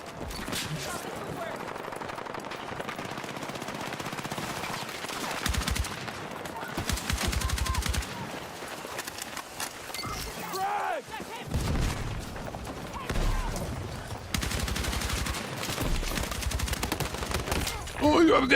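Battlefield 6 gunfire rattles in dense automatic bursts and single shots through most of the stretch, with brief pauses, explosions and a player talking over the action.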